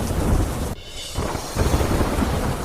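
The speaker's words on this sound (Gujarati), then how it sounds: "શાંતિપથ વિસ્તારમાં ભારે પવન સાથે પડ્યો ધોધમાર વરસાદ." Heavy downpour with strong wind in Delhi's Shantipath area, loud continuous rain roar and low thunder rumble, briefly dipping before surging back, no voices.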